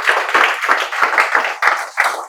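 A class of students claps together in bursts of quick, loud hand claps, about half a dozen surges running back to back with no talking.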